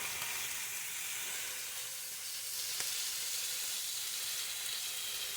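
A steak cooking toward well done sizzles in a steady, dense hiss that stays even and fairly loud throughout, close up with no voices.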